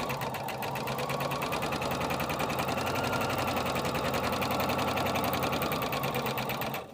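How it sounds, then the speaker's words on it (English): Sewing machine stitching a straight seam of fabric along a drawn line, a fast, even mechanical whirring chatter running steadily and close for about seven seconds before stopping at the end. "we're going to sew right on the line we just drew"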